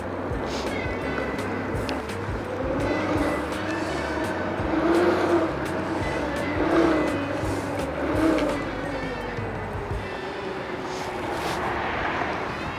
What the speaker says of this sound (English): All you can hear is the wheels